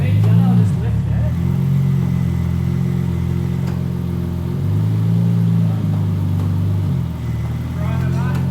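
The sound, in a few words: 1JZGTE engine revving in Holden Torana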